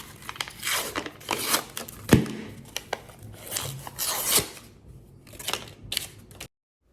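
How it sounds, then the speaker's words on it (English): A whisk scrapes and clatters in a bowl while combining ingredients with a pinch of salt, making quick repeated bursts up close with short pauses between strokes. "Then I'm going to use this whisk again to just combine these together."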